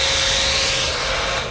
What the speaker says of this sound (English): It's a fantastic hairdryer.